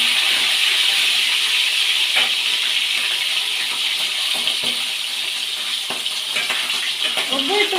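Loud, continuous hissing and crackling of milkfish (bangus) frying in hot oil, with sharp pops of splattering throughout.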